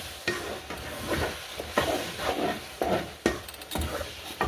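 Undrained canned pinto beans stirred into a pot of taco soup, with wet thick sloshing and scraping spoon strokes in an uneven rhythm over a low simmer, close by with no talk.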